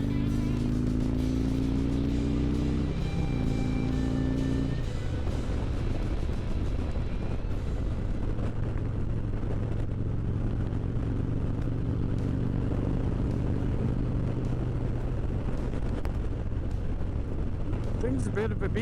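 A Harley-Davidson Road Glide motorcycle rumbles steadily while cruising in fourth gear, a low, continuous engine drone mixed with wind noise, with a rider's voice talking over it.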